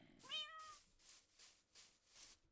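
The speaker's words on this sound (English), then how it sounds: "Aww, a white cat." A white cat in the Minecraft video game meows once, a clear rising-and-falling call near the start, followed by soft repeated background noise with no talking.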